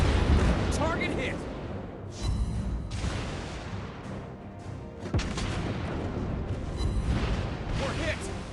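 Naval guns fire and shells strike ships in the World of Warships Blitz mobile game, with the Hizen battleship in play. Heavy booms and blasts come one after another over a dense, continuous battle roar, with game voice lines running under it.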